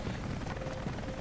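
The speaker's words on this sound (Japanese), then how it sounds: "ヘリの音が大きいんだね。" A helicopter in the video game Rise of the Tomb Raider gives off a steady, loud rotor and engine roar that fills the whole moment without a break.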